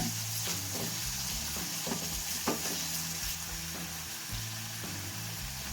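Onions sauté in oil in a pan with a pinch of asafoetida, producing a fairly quiet, steady sizzle with repeated light stirring clicks and scrapes and a low tonal hum beneath.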